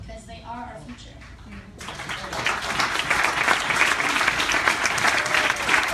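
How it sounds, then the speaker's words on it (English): An audience at a live NODAPL event in New York breaks into loud, sustained applause that swells up suddenly after a moment of voices and keeps going as a dense wash of clapping. "if you keep clapping, we're never going to get through this night"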